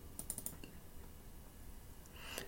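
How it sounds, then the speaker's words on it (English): A computer mouse is double-clicked during a programming lesson, a quick pair of faint clicks near the start, with more light clicks at the end over a quiet room. "So let's double click on rocket."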